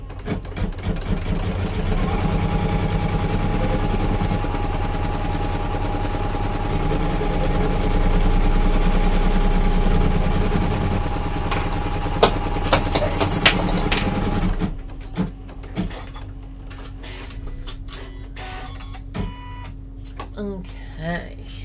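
A home embroidery machine stitching fabric patches hums with a steady rapid needle chatter for about fifteen seconds, then stops, leaving a faint motor hum and a few small clicks.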